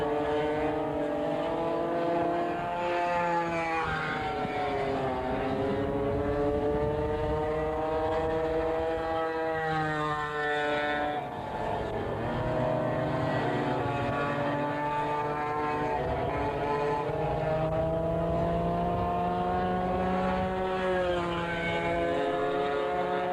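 Racing go-kart engines at a Maui championship event, several karts buzzing and whining continuously as their pitches rise and fall through the turns, loud and sustained with no speech.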